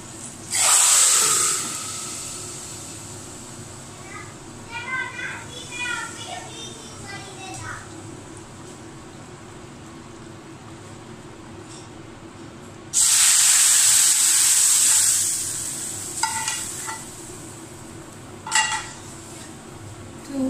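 A loud burst of sizzling and hissing as hot tempering oil is poured into lentils for dal gosht, fading over several seconds, then a second strong sizzle with clinking pans.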